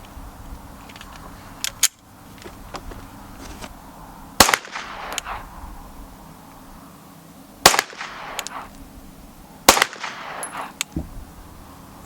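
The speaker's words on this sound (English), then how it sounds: "that was 3 shots with the Magtech 115" Sig P320 X5 pistol fires Magtech 115 grain rounds at a range, four sharp cracks with a short ringing tail each, spaced a couple of seconds apart over faint background noise.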